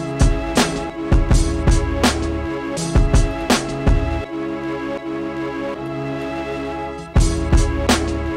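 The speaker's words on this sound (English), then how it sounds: "So this string chop right here is just basically playing for 8 bars" A chopped string sample loops in Bitwig Studio without envelope shaping, playing repeated staccato string hits and sustained bowed notes in a steady rhythm, loud and alone with no talking.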